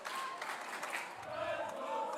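Crowd at a women's college volleyball match between Moody Bible Institute and Central Christian College of the Bible, a steady murmur of voices and cheering in a gym, with a commentator talking over it.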